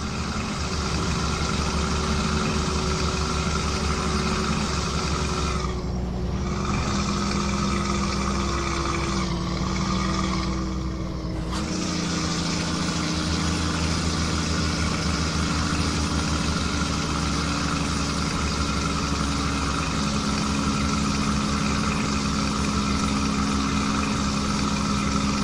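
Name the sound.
Peterbilt 387 truck engine hauling a 50 ton scraper pan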